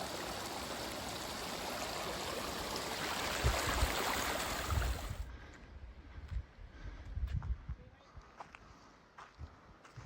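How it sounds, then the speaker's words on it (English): A waterfall and stream along a High Sierra trail rush in a loud, steady wash that drops away abruptly partway through, leaving faint water, footsteps and a speaking voice. "here are the falls that I showed you from the trail."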